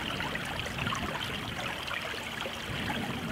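Kinnikinnick Creek flowing across open fields and oak savanna land, a steady broadband trickling rush of moving water that stays even and continuous throughout, heard alone with no voices.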